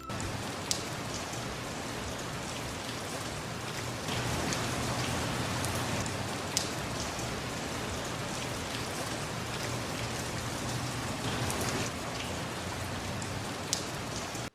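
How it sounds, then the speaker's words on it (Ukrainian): Steady rain pouring down on a hard surface, a constant dense hiss with scattered louder drops, close by and continuous throughout. "Це дощ."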